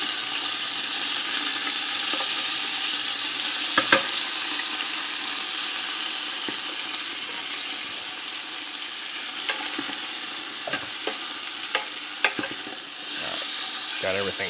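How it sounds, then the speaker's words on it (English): Meat sizzles steadily on a Blackstone griddle, a constant hiss with scattered sharp clacks and scrapes from a spatula as pieces are flipped, close by and without speech. "I'm going to go ahead and flip my meat here real quick."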